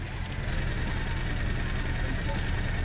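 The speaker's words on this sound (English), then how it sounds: "The engine still has a lot of clack in it." A car engine idles with a clacking knock in the BeamNG video game, a steady, loud, continuous rumble with a rattly mechanical texture filling the whole stretch.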